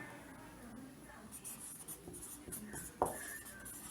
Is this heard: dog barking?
no